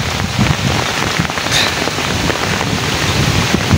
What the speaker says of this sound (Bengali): আজকে সকাল থেকে আমাদের এখানে প্রচুর পরিমাণে বৃষ্টি আর প্রচুর পরিমাণে ঝড়